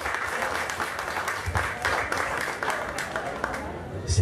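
An audience at a cultural celebration gives a round of applause, a dense, fairly soft patter of many hands. Murmured voices run underneath, and a few louder thumps come near the end.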